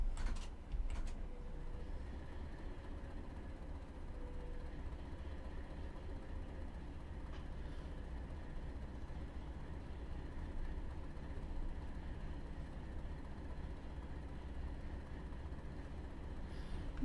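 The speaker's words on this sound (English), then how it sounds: "gotta love the sound of that engine." Train engine in the Train Simulator game on the GAD West of England Mainline, a low steady diesel rumble with faint mechanical hum, running continuously and fairly quiet, with a couple of brief clanks near the start.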